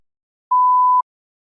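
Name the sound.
beep signalling start of TOEFL response preparation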